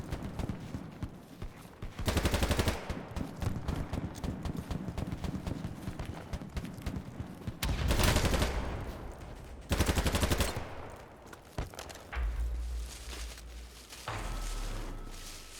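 Video game gunfire comes in several loud, rapid automatic bursts separated by busier stretches of game noise and clattering, sounding close and punchy.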